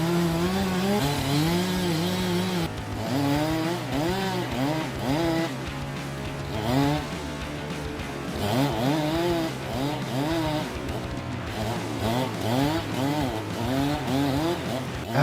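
Chainsaw cutting through a massive tree trunk in a forest, engine revving and bogging in repeated surges as the chain bites the wood, loud and close throughout.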